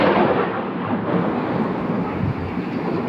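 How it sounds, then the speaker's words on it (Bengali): Thunder rolls in a loud, deep rumble during heavy rain with lightning, a sustained roar close by with no voices. "এই দেখো এবারে বৃষ্টিটা পড়ছে, বিদ্যুৎ চমকাচ্ছে, বৃষ্টি পড়ছে জোর।"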